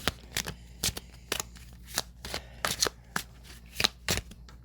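Tarot cards are shuffled and drawn by hand, a series of crisp riffling snaps and slaps at an uneven rhythm, close and fairly quiet with no talk.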